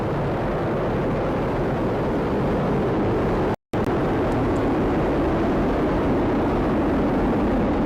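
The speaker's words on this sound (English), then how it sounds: "All 27 Merlin engines look great. Rocket beginning to roll." The 27 Merlin engines of a Falcon Heavy rocket roar at launch, a deep, continuous rumble, broad and heavy, cut by one brief dropout before the thunder carries on.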